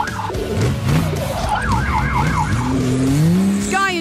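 Cartoon fire truck siren from a PAW Patrol toy rescue, a loud wailing siren rising and falling in repeated sweeps alongside vehicle engine and skid noises.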